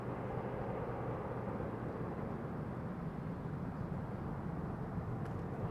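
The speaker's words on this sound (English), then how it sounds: "More planes still taxiing to takeoff" Airliners taxiing toward takeoff at Toronto Pearson Airport at night, a steady low jet-engine rumble and hiss held at even loudness throughout, distant and continuous with no talk.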